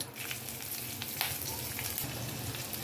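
Curry leaves and green chillies crackle and sizzle steadily in hot oil for sago chivda, a dense close frying hiss with scattered pops and no voices.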